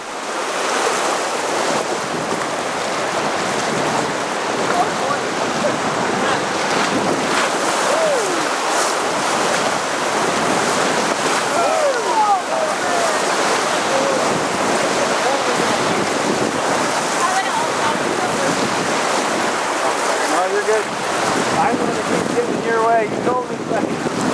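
Rushing river water and surf-like roar from a raft running the Rock Garden rapid on a Montana river, steady and loud throughout with wind buffeting the microphone.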